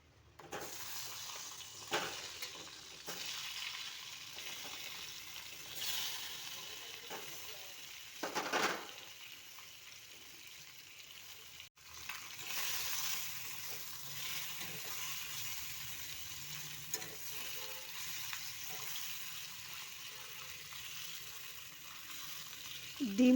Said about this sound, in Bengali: ডিমগুলো ভেজে নিচ্ছি।